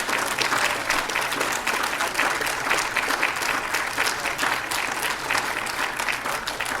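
Audience applause fills a city council chamber, a dense, steady patter of many hands clapping at close range that carries unbroken from start to finish.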